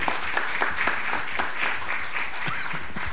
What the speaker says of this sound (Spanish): lo recibimos con un fuerte aplauso al escritor Osvaldo Reynoso